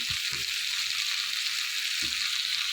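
Steady close sizzle of frying fish curry in a pan as turmeric and spices are tipped in, with a couple of low soft thumps from the spice addition and no talking.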